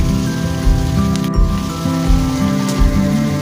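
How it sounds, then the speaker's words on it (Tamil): Loud, continuous sizzling and crackling of onions and green chilies sautéing in a pan, with occasional sharper pops and clinks. "வெங்காயம் பச்சை மிளகாய் இது நல்லா வதக்கி விடுங்க"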